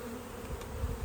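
Honey bees buzz around hive frames during a colony split, a dense, close, continuous hum lasting about a second with no talk.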